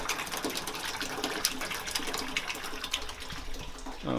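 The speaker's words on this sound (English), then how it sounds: "So now it's being pumped out from the bottom of the mash tun, coming out close to the top of the boiler." Wort pumped from the bottom of a mash tun and splashing into the top of a boiler during a trial brew run on a heat-exchanger brewer, a steady close rushing gush of liquid with a faint low rumble beneath.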